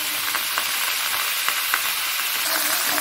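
Whole tomatoes going into a hot pan of cauliflower and potato fry, giving a dense, steady sizzle with a few sharp crackles popping through, close and continuous.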